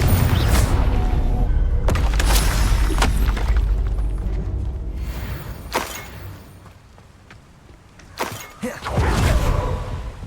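Fire and blasting spells exploding in the Hogwarts Legacy video game, several loud booming blasts and whooshing bursts in quick succession, with rumbling decay between hits.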